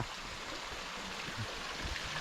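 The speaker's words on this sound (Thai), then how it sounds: "โดยเฉพาะมันมีสายน้ำหยดมาตลอดเวลา" Water trickles and drips steadily down a long cliff face beside the Mae Klong river headwaters near Umphang, a continuous soft rushing wash with no other sounds.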